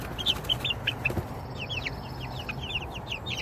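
Several backyard chickens cluck and chirp in quick, scattered bursts close by, with a faint rustle and hiss of outdoor background underneath.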